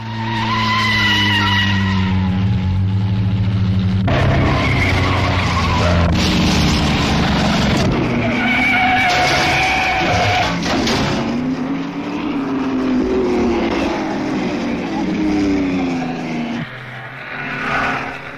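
Vintage Fiat racing engines roar and buzz loudly, with tyres squealing as cars speed past, the pitch sweeping up and down in a busy, continuous din.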